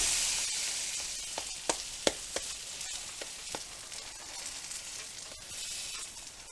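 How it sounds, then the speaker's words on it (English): Real butter sizzling in a hot pan, a steady hiss broken by several sharp crackles and pops spread across the span, heard close with no voices. "We'll throw a little butter on top of this."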